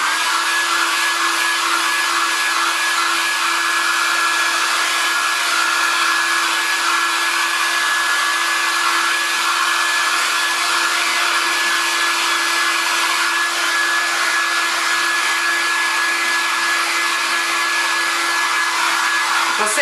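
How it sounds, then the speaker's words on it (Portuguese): A hair dryer runs steadily and loudly throughout, blowing hot air to dry paint on an MDF box decorated with inset patchwork, a constant whir with a tonal whine and no speech. "agora eu vou secar mais um pouquinho e vou lixar"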